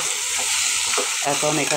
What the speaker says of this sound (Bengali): এদিকে আমার ডালটা মোটামুটি ভাজা হয়ে যাচ্ছে।